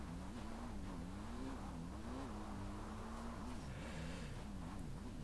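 Car engine accelerating in GTA 5, a continuous faint revving drone that rises and wavers in pitch throughout, with no speech.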